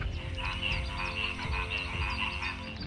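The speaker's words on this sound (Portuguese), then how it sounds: "Ou de um sapo venenoso de coloração vibrante, em meio à vegetação úmida." Poisonous, brightly coloured frog in the humid Amazon rainforest, croaking in a continuous run of rapid, rattling calls over a dense backdrop of forest insects and ambience.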